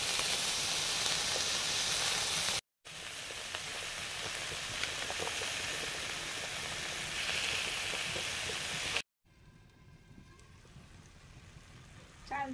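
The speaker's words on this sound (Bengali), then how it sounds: "মৌরলা মাছ ভাজা হচ্ছে।" Small mourala fish fry in a hot pan with a steady, dense sizzle and hiss that fills the whole stretch, broken by two brief cuts; the frying turns quieter and sparser near the end.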